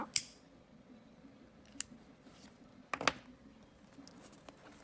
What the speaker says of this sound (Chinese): 好，来拿剪刀断线，打火机续一下线头。